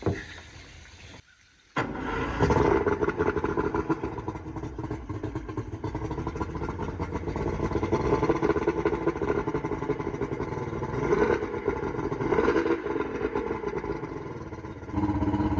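A SeaArk 2072 boat engine fed from a 3-gallon fuel tank catches after a short quiet moment and settles into a loud, steady, rumbling run that continues without a break.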